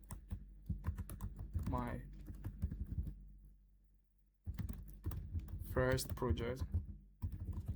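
Keystrokes on a computer keyboard as a folder name is typed in Google Earth Pro, a quick patter of clicks running under a person speaking, with a short pause midway.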